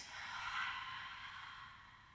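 A single long forceful exhale through an open mouth during a yoga lion's breath, a soft breathy rush that swells then slowly fades, close and quiet with no talking.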